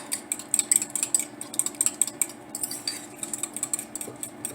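Eggs for scrambled eggs being whisked with a utensil in a bowl, producing rapid rhythmic clinks and taps, close and steady, with no voices.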